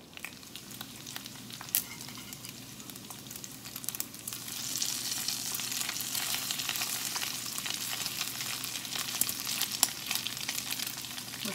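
Bacon and eggs fry in a pan for a breakfast sandwich, giving a steady broadband sizzle throughout with a few sharper crackles and pops, close and fairly quiet, without any talking.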